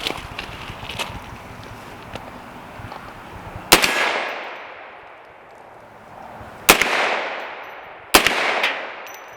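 A .458 rifle firing 300-grain full metal jacket rounds at steel targets outdoors: three loud, sharp shots spaced a few seconds apart, each trailing off in a long rolling echo over a breezy background.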